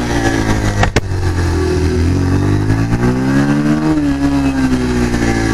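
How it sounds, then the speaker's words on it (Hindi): A Bajaj Pulsar 125 motorcycle's exhaust pulls away in first gear, a loud, close, steady engine drone with one sharp knock near the start and the pitch climbing then easing as the bike gains speed. "एग्जॉस्ट जहर है जहर। तो चलो पहले गियर में डालते हैं बाइक"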